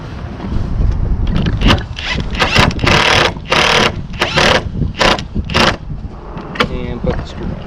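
A screw is driven into the frame of a chicken tractor, with several short whirring motor bursts of a power driver up close and a voice talking between them.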